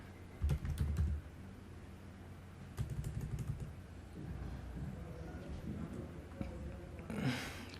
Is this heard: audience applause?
no